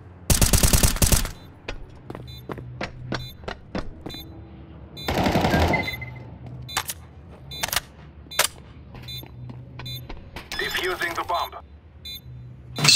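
Rapid automatic gunfire in Counter-Strike 2, loud bursts of machine-gun fire broken by single sharp shots and clicks, with several sustained volleys over the game's background sounds.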